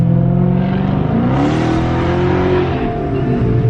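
A Dodge Charger Hellcat's engine roars under hard acceleration, loud and close, its harmonic drone rising steadily in pitch through the pull before easing off near the end.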